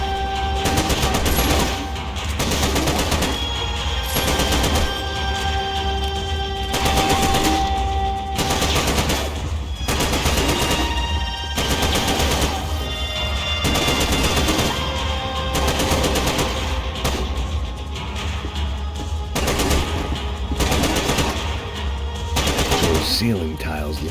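Gunfire in the Max Payne video game comes in loud, repeated bursts of rapid shots separated by short pauses, dense and close throughout.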